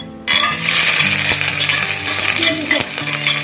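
Vegetarian mock lean meat, flavoured with shiitake mushroom, frying in hot oil in a pan: a loud, steady crackling sizzle starts after a brief quiet moment and runs on continuously, with a faint low tonal hum beneath.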